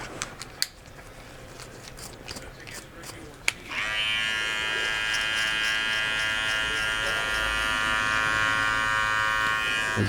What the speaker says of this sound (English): It's very important to pay attention to your clipper and where it's going